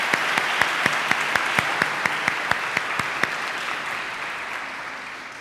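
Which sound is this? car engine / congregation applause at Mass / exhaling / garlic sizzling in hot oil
congregation applause at Mass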